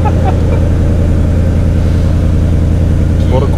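A 2018 Ford Mustang with a stock exhaust idles with a constant low, throbbing rumble, loud and close, running steadily throughout.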